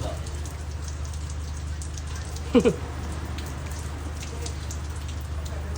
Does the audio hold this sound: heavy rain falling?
yes